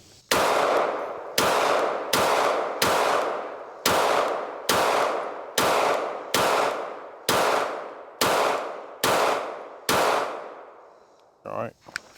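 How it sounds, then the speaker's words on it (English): A Smith & Wesson Bodyguard 2.0 pistol fires twelve loud, sharp shots at a steady, deliberate pace, each crack ringing out and decaying before the next, followed by a brief metallic handling clatter at the end. "I'm gonna try my best to shoot slowly and see if there's any kind of difference in the muzzle rise at all"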